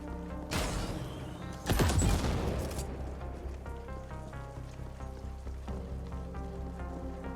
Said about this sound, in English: a bit of rocket launcher action here